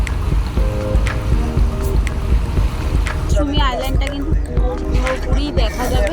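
A motor launch ferry on the river from Namkhana toward Gangasagar, a continuous low engine drone and rumble with water noise, someone speaking and a song playing over it.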